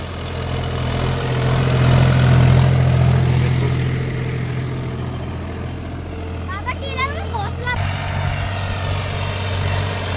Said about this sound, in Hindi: काफी हाई स्पीड ट्रैक्टर है।